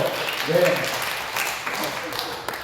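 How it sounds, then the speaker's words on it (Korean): A crowd at a church prayer seminar claps steadily for a few seconds, a dense wash of applause with some voices audible underneath. "박수 한번 쳐줘요."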